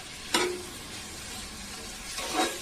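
Green chillies frying in hot oil for vegetable biryani, with two brief sizzling bursts as pieces hit the pan and a soft steady crackle between them.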